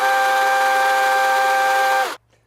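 A SKIL 18-inch chainsaw runs at a steady high idle for about two seconds while oiling its blade, loud and close with a constant whining tone, then cuts off abruptly into near silence.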